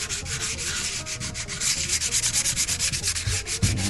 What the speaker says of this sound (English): sand this down